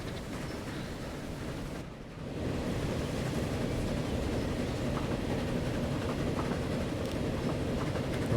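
A train rumbles steadily along in Transport Fever 2, a dense, continuous roar with faint rhythmic clatter that dips briefly before surging back and holding loud to the end.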